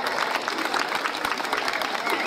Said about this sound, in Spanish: Pido nuevamente un fuerte aplauso para la doctora